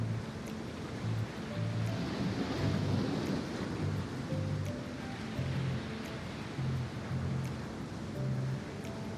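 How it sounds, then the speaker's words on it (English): Ocean waves wash continuously in the naval video game World of Warships, a broad steady surf roar with soft rhythmic low tones pulsing underneath, no voices over it. "Like the waves, sound of the waves, quite calming."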